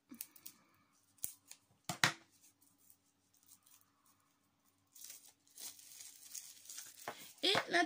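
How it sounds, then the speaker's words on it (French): Packaging pulled off a purchased wax item: scattered snips, tearing and crinkling of wrapping at close range, quiet gaps between, then louder rustling toward the end. "Je fais comme les autres, j'enlève de l'emballage."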